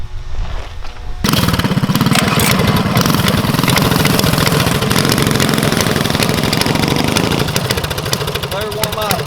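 A Coleman CT200U mini bike engine warming up at idle, a loud, steady, close chugging drone that kicks in after a short quiet start and runs without a break.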